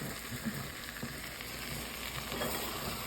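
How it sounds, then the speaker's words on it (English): Lemon chicken orzo soup base being stirred in a pot before the broth goes in, giving a steady low sizzle with soft scraping strokes spread throughout and no voices. "just mix it before I add all the broth in there"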